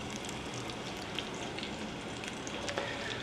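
Battered food par-fries in oil at 325 degrees, a steady, close, crackling sizzle with a few sharper pops and no talking.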